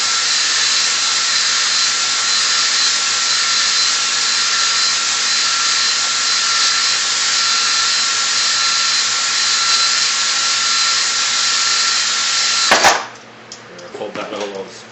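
Drill spinning a hone inside a Polaris Indy 440 fan-cooled cylinder, a loud steady high whir held for about thirteen seconds, then stopping abruptly with a clatter as the hone is pulled out.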